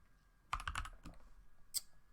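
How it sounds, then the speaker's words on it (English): A few quick, soft keystrokes tap on a computer keyboard as a search query is typed, close and faint in a quiet room. "So just type in all-in title"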